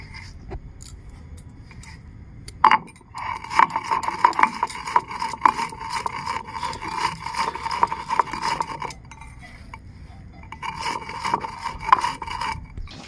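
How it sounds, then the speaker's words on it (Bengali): Roasted spices for mango pickle are ground on a flat grinding stone (shil-nora), a continuous scraping, rasping rub of stone on stone with rhythmic strokes, a brief sharp knock early on and a short pause before grinding resumes. "আমি এখন শিলনোড়ায় বেটে নিচ্ছি ভালো করে"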